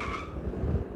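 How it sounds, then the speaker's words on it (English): Car in the Extreme Car Driving Simulator game braking hard from high speed, with a continuous loud engine-and-tire roar swelling into a heavier low rumble near the end, no talking. "Now, it's time to hit the brakes."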